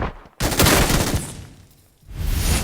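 An MG3 machine gun fires in the mobile shooter New State Mobile, a loud, dense burst of rapid shots that starts suddenly, fades with echo, then picks up again near the end.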